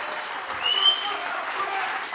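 Applause from a television comedy-show audience at the Swiss Comedy Talent final, a short, moderately loud wash of clapping with a faint tonal sound over it midway.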